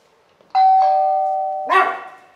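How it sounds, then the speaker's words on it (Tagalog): A doorbell at a friend's house in Korea rings out clearly, a sustained two-tone chime followed by a second brighter strike, loud and close with no talking. "Tingnan mo yung doorbell."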